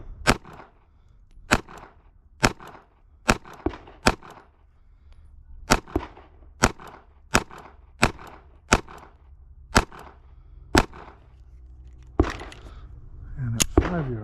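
A Ruger LCP Max pistol fires about fifteen sharp, loud shots at a 5-yard target, spaced roughly a second apart with short pauses between strings.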